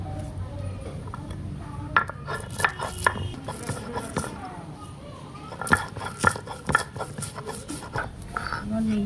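Black and white mustard seeds and green chili ground into a fine paste: scattered, sharp knocks and scrapes in uneven clusters, with a person talking throughout.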